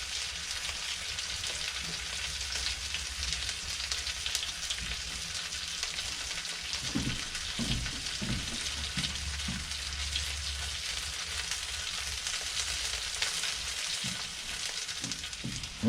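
Potatoes frying in a pan over a cabin fireplace fire give off a steady, soft sizzle and crackle, with a few low knocks and stirring thumps partway through and no voices.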